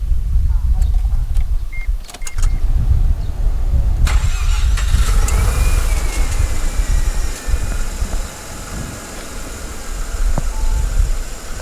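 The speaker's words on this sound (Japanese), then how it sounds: "ではエンジンかけますね。" A Mazda RX-7 Type RZ FD3S rotary engine cranks and fires up, with clicks and whirring at first, then the engine catching and running roughly, while people talk nearby.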